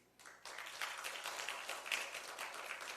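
A church congregation applauding together during a Sunday service, a dense steady wash of clapping that starts abruptly and holds for a few seconds at moderate loudness.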